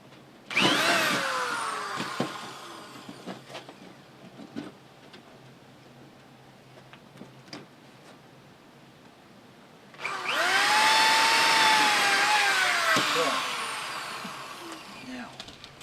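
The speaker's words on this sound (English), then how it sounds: "once again, we'll drill." A power drill bores through wood during a property mothballing job, two bursts of loud, steady whirring, one short at the start and one longer near the end, with quieter tool clatter and shuffling between them.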